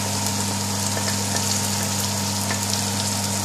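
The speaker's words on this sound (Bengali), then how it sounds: "এখন আমরা ওই যে খাটা পেঁয়াজগুলো ডালবো" Onions going into hot oil in a pan for a Bengali chicken and potato curry, a steady close sizzle of frying with small crackles, over a constant low hum.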